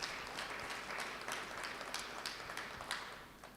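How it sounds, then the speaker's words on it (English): A crowd at an awards ceremony claps steadily in a quiet, somewhat distant round of applause that slowly fades toward the end. "give yourselves one more round of applause"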